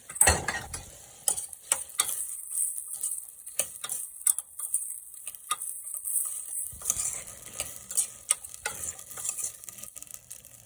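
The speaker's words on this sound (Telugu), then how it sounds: "గ్రీన్ పీస్ కొంచెం ఫ్రై అయిన తర్వాత హాఫ్ అన్ అవర్ ముందు నానబెట్టుకున్న బియ్యం వేసుకొని కలుపుకోవాలి" Soaked basmati rice is stirred into lightly fried green peas inside a pressure cooker. A spoon scrapes and clinks against the metal in a steady run of strokes, with a soft sizzle underneath and no talking.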